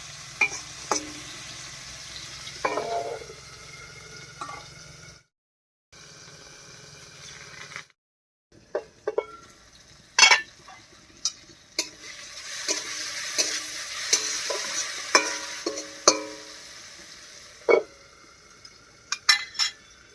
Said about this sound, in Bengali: এবারে ঢাকা দিয়ে দিয়ে টমেটোটাকে একটু রান্না করে নেবে